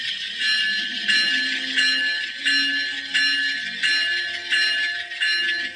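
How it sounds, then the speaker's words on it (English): An N scale model train locomotive bell rings in a steady, repeating pattern, with clear metallic strikes about once a second, close and alone with no talking. "We got a bell."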